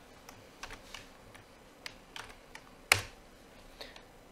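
Keys clack on a computer keyboard as code is typed, sparse irregular taps spread across a few seconds with one louder strike near the end, close and fairly quiet with no voice.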